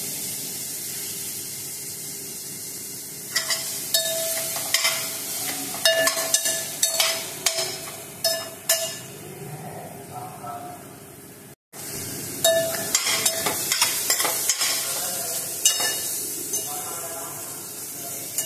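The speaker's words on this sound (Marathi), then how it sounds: "दोन मिनिटं आपल्याला छान भाजून घ्यायचं" Grated beetroot roasted and stirred in a pan for kheer, a low hiss broken by repeated sharp clinks and scrapes of a spoon against metal, with a voice speaking over parts of it.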